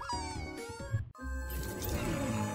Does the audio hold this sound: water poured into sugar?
no